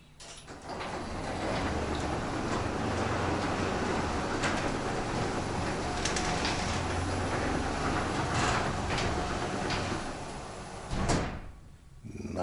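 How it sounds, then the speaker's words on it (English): A Genie screw-drive garage door opener runs for about ten seconds, a steady loud rumbling grind with rattling panel clatter, ending in a clunk as the door stops, followed by quiet. "So now listen to the garage door."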